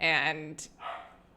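A dog yips and barks in the background, one high, tonal bark near the start followed by a softer second yelp, with a voice speaking nearby.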